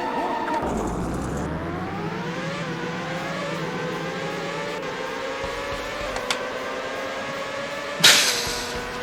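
Race car engines whine and rise in pitch in the PS1 Indy 500 game, a steady tonal drone with gear shifts and shifting pitch, capped by a sharp crash-like burst near the end.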